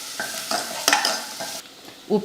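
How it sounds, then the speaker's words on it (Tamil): Crushed pepper and cumin sautéed in hot oil for rasam, after mustard seeds pop, with a spoon stirring and scraping the pan over a steady sizzle, close and brief. "மிளகு சீரக தட்டினதை சேர்த்துடலாம். சேர்த்துட்டு அப்படியே வதக்கி விட்டுருவோம்"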